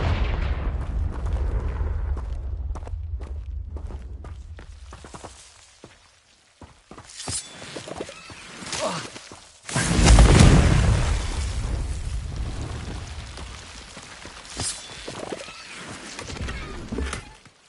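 Confringo fire-blast spell cast in the game Hogwarts Legacy, a loud booming burst near the middle with low rumble, preceded by a deep rumbling stretch and scattered sharp magical crackles and pops throughout.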